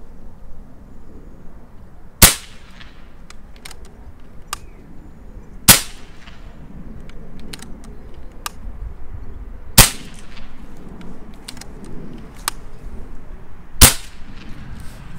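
A Reximex Pretensis multi-shot PCP air rifle fires five sharp, loud cracks spaced a few seconds apart, with quieter side-lever cycling clicks and clacks between the shots.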